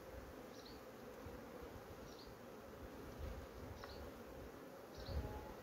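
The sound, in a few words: honeybees buzzing at a hive taking syrup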